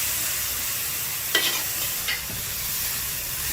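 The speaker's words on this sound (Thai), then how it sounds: "ก็จะผัดให้กระหล่ำปลีนิ่มนะคะ" Cabbage and glass noodles being stir-fried in a wok, with a constant hiss of frying broken by a couple of sharp spatula scrapes.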